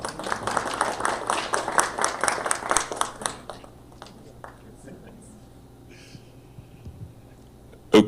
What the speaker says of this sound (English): one massive round of applause once again for Dr. Benjamin Ritter